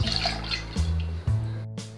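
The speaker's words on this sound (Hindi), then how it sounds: "सबसे पहले हम चाशनी बनाएंगे, तो इसके लिए मैं यहाँ पे घर की कटोरी से 2 कटोरी पानी डालूंगी।" Water poured from a household bowl into a pan to start sugar syrup for sooji kala jamun: a short splashing pour with gurgling, then a couple of brief splashes, near and fairly loud.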